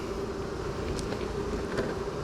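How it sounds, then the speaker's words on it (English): A crowd of bees swarming around an open hive gives a steady, fairly faint droning buzz, broken by a couple of soft clicks. "there are so many bees in here that I'm going to need a little bit of smoke to help me out"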